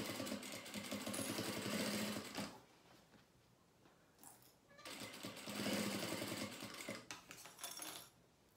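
A sewing machine runs in two bursts of rapid, chattering stitching as it sews a fabric lining to the main fabric, with a quiet pause between them and faint handling noises.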